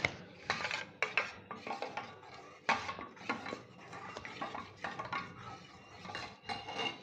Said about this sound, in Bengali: ভালো করে গুলে নিতে হবে।